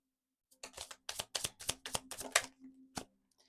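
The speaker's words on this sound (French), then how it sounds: "Je vous sors une petite carte de l'oracle des Starseeds." Cards from a Starseeds oracle deck being handled and shuffled, a quick series of close, crisp riffling taps and flicks, then a final single snap.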